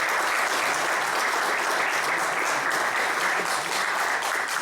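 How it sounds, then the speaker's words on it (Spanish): Sustained applause from an audience at a formal event in Mexico, steady and dense crowd clapping at a constant level throughout with no break. "Un fuerte aplauso, por favor."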